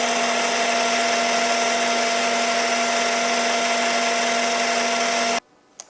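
A lathe runs with a steady, high, tonal whine while a pass cuts a metal spindle encoder mount down toward its final diameter. It is loud and continuous and stops abruptly near the end, leaving near silence and a small click.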